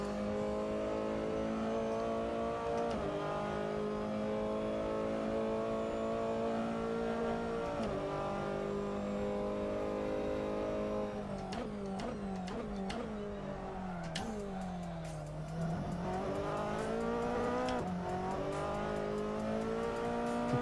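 A race car in the Assetto Corsa racing game drifts through a corner, its engine droning steadily and loudly with rising and dipping pitch as the revs change, and faint tire scrubbing underneath.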